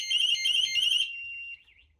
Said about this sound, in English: So we'll let this guy go off. It takes about 60 seconds for it to go off.